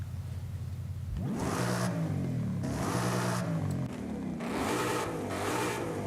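A car engine revs up repeatedly in rising bursts, the exhaust burbling and crackling between pulls, loud and close.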